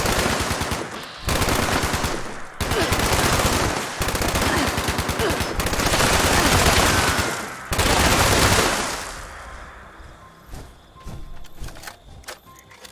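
Vampire Ultracite Gatling Laser firing in Fallout 76, loud sustained bursts of rapid automatic fire in several long strings with brief gaps, then trailing off into scattered quieter clicks and impacts.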